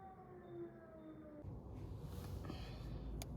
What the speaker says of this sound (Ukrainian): гудить за вікном сирена